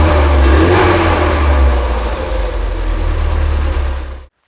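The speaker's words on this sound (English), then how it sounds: "Of course, you rev the engine, it starts blasting warm air at you with a cooling fan." A Standard Atlas pick-up engine with its cover off revs loudly and close, with a deep throbbing rumble that holds steady and then cuts off abruptly.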